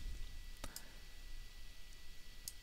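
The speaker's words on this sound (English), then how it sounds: "and I'm going to click apply." Computer mouse clicks, two sharp, faint, separate clicks about two seconds apart over quiet room hum.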